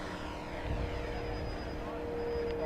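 An FMS 1700mm Corsair V3 radio-control model warplane on 8S power makes a full-throttle pass, its propeller whine a steady, fairly faint drone as someone talks over it.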